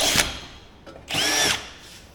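A power drill bores a hole in a 1999 Jeep Cherokee with two short high whirring bursts, the second longer and steadier, close up and with no talk.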